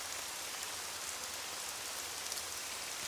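Steady rain falls throughout, a dense even hiss of drops landing on surfaces, close and constant with no voices over it.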